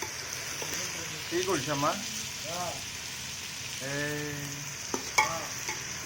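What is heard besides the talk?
onions frying for pulao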